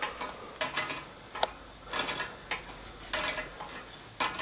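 Adjustable wrench ratcheting and clinking on metal bolts while a large ceramic kamado grill stand is assembled, a series of short separate metallic clicks and turns at close range with no talk.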